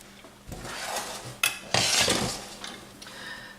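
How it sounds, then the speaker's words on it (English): Cheese sauce being stirred in a pot for Swiss macaroni cheese, with a spoon scraping and clinking against the metal in close, uneven strokes and two sharper knocks partway through. "And then I'm going to stir this round until all the cheese melts basically"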